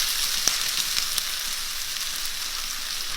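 Sliced onions hit hot oil in a pan for an egg roast, giving a steady, bright sizzle with a few small crackles and pops throughout.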